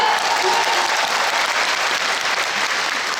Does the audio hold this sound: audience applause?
yes